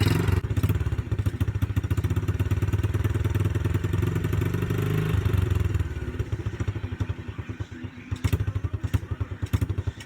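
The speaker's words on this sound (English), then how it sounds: "We got a dirt bike. And it doesn't like running." An old Baja Motorsports dirt bike that sat for years runs badly through an exhaust with a big hole. Its close, rough popping idle sputters and sags partway through, then picks back up unevenly.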